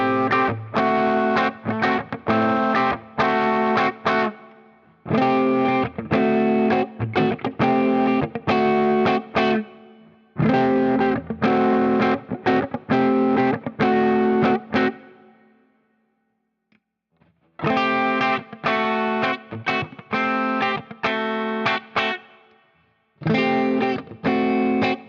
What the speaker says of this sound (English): I'll just play a chord, hit all the pickup selectors, and pop that coil split in and out,